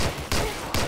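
Gunfire from the video game Medal of Honor: Allied Assault, a few loud, sharp gunshot bursts with short gaps between them, close and punchy, no speech over it.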